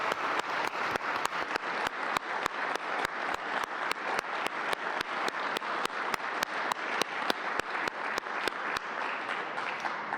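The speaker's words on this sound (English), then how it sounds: "give everybody, all of the nominees, a big round of applause" Applause for the nominees at a 2020 Veteran of the Year ceremony, a sustained crowd clapping with a sharp, regular rhythmic clap cutting through at a steady beat, moderately loud and unbroken for about ten seconds.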